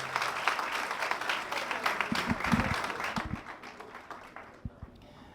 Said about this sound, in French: Qu'elle s'amène sous l'éclat de vos acclamations